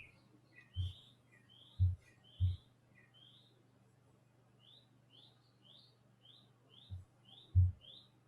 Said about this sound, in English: Is that like birds in your background?